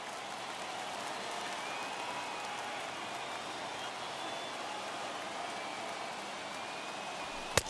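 A simulated baseball stadium crowd in MLB The Show 21 rises to its feet for a late-inning strikeout, a steady, broad roar of cheering that fills the whole stretch and ends with a sharp crack.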